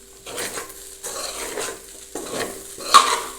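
Poha with potatoes being stirred in a pan, three slow sweeping scrapes of a spoon against the metal over a soft sizzle, close and rhythmic, a small clink near the end, no talking.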